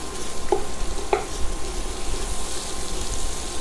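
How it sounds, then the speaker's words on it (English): Garlic frying in a pan, a steady, even sizzle with a couple of brief stirring clinks, constant and moderately close with no talking. "I'm going to put in the garlic now."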